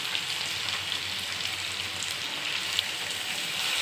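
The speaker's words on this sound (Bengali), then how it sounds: "এরপর এর মধ্যে আমি দিয়ে দেবো ফ্যাটানো দই।" Beaten yogurt goes into spices frying in a pan for a chicken curry with potato, papaya and carrot, giving a steady, close sizzle that holds evenly throughout, with no talking.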